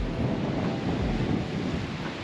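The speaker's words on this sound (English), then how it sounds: "look what's coming, the rain." Rain and rolling thunder sweep over a campsite during a long-distance bike tour across China, a dense steady roar of downpour and low rumble with no voices.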